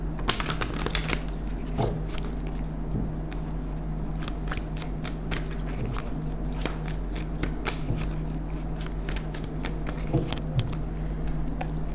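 Tarot cards are shuffled close up, their crisp riffling and flicking patter running steadily throughout with no talk.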